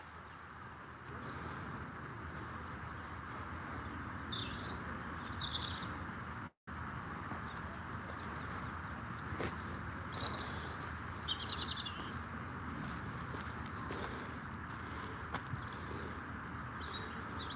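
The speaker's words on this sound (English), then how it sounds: "But you can hear the birds." Small birds chirp and tweet in Regent's Park, London, on a freezing day, scattered bright calls over a steady outdoor hum, with faint footsteps and clip-clop sounds in the background.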